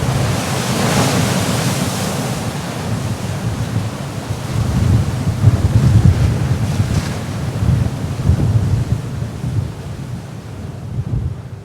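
Wind blowing in off the ocean onto a rocky shore buffets the microphone in loud, gusting roars over the continuous wash of waves breaking on the coast.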